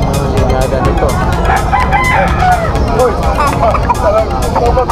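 Roosters crow repeatedly at the Malabon pet market, where several birds call over one another amid a loud, busy crowd with people talking and clucking in the background.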